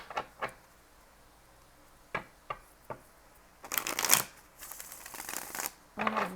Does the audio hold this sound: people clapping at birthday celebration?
no